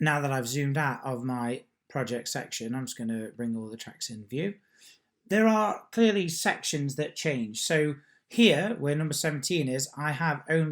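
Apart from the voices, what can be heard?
None of the usual background noises is heard.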